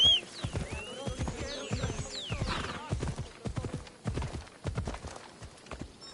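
A ridden horse trots with a rhythmic clip-clop of hooves, close and steady, with a brief whinny near the start and a rider's voice urging it on.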